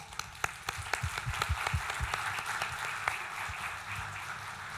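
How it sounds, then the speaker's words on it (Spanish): Audience applause at a business outlook conference in Chile, a dense steady wash of clapping with a few sharper near claps standing out, sustained through the whole stretch without speech. "por favor, un aplauso para Paulo"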